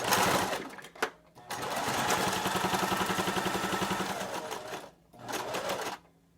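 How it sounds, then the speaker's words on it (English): A sewing machine stitches the hem of a fabric face mask in a loud, steady mechanical whir, stopping briefly near the start and again toward the end before a short final burst. "I'm going to sew up to that hem that I made"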